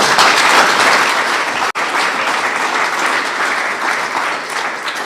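A White House event crowd of roughly 150 to 200 people gives a sustained burst of applause, loud and dense. It carries on without a break apart from one momentary dropout.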